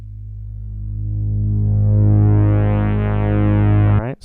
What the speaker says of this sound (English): we'll hear the sound fade in as that filter opens up.